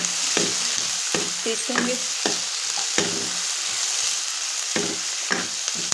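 Sliced onions roasting to light brown in a pan for chicken white karahi, with repeated scraping stirs over a steady, close sizzle at an even, unhurried rhythm.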